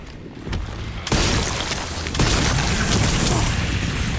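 A rocket explosion in the video game Resident Evil: a deep boom erupts after a brief lead-in, and a second heavy blast follows a second later, leaving a loud rumbling roar that sustains to the end.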